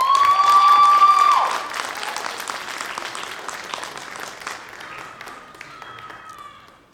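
An audience at a junior honor society induction gives a round of applause, opening with a loud burst and a sharp whistle, then steady clapping that gradually tapers off.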